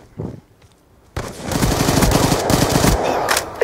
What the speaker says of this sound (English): Yeah, sentry gun.